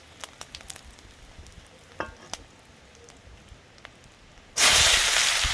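Quiet clinks and taps of a pan give way to a sudden loud, steady sizzle as whole cumin seeds and dried chillies hit hot oil for a chital fish muitha curry.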